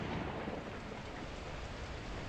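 A thunderstorm breaks in the video game Beacon Pines, with heavy rain hissing steadily and a low rumble underneath, a brief, fairly quiet wash of noise with no voices.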